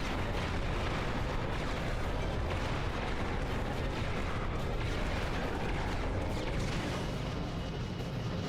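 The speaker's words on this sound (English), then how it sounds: "This is why I got the torpedoes." Torpedo explosions in Ratchet & Clank 2 on the PS3 HD remaster, a dense, continuous rumble of booms and bursts that stays loud and steady throughout with no talk over it.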